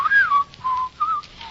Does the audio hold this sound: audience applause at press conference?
no